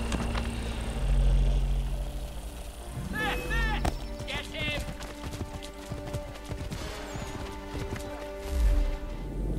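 Rapid hoofbeats of a galloping horse in Assassin's Creed 3 clatter under loud game sounds, with a brief whinny and bursts of busy noise around them.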